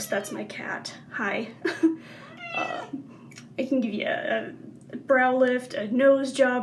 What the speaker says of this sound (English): That's not a ghost, that's my cat.